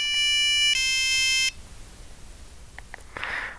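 Nokia 3410 mobile phone playing a user-composed ringtone: two bright sustained electronic beeps in a row, fairly loud and close, followed by faint handling clicks.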